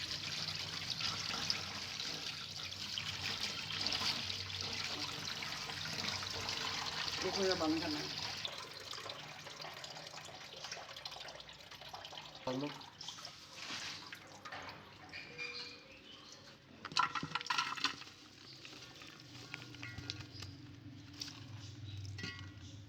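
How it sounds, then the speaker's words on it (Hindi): Saag leaves, along with chopped spinach and bathua, rinsed under running water in a kitchen while making Punjabi sarson ka saag: steady splashing and trickling that drops off partway, then intermittent drips and clatter. "साग काटने के बाद इसको अच्छी तरह पानी से धो लेंगे।"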